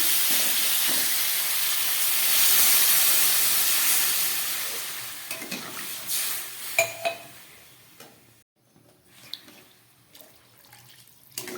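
Water poured into a pan of hot oil with ginger and garlic bursts into a loud hissing sizzle that swells, then fades into intermittent softer bubbling and crackles.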